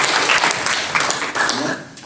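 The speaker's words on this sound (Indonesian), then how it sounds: "Berikan tepuk tangan." Audience applause at a prayer and fasting service on Mount Salak in Bogor, a dense, steady patter of many hands clapping that fills the space and tapers slightly toward the end.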